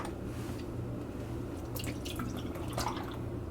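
Tap water running steadily to wet a makeup brush for cleaning, a continuous close splashing hiss with small drip-like spatters, with no talking.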